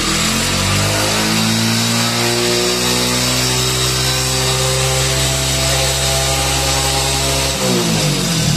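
A Hero Passion Pro motorcycle with a fault that makes it race at high idle after starting gives a loud, steady, close engine whine that holds its pitch, then briefly dips and recovers near the end.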